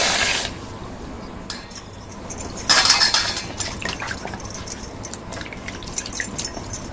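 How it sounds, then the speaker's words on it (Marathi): Vegetables are washed under water in a kitchen, with splashing, trickling and dripping, and a louder burst of running water midway, plus light clinks of utensils. "आता आपण सगळ्या भाज्या धुवून घेऊया"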